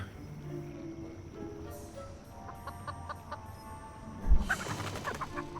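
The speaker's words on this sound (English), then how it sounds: "If the chicken didn't want me to touch it, perhaps a blast of air could do the trick." A cartoon chicken clucks in the video game Foolish Mortals, short repeated clucks over game music and ambience, ending in a sudden thump as a blast of air knocks it over.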